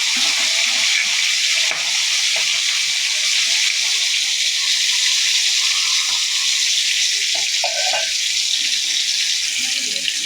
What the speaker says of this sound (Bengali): আজ আমি মাছটা খুব ভালো করে ভেজে নিচ্ছি।